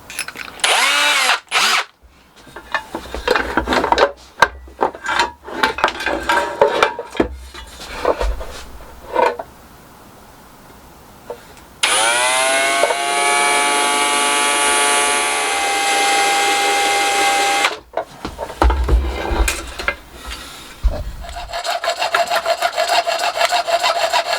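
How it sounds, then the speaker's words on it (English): A power drill bores a pilot hole into magnesium in a small shed workshop, whirring loudly in several bursts with a long steady high-pitched run in the middle, no talk. "To my knowledge, I've never drilled magnesium before, so we'll see how that goes."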